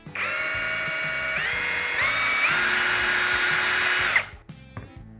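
A Procraft 20V cordless drill driver whines at close range, its pitch stepping up in stages as it speeds up, then cutting off abruptly, followed by faint clicks.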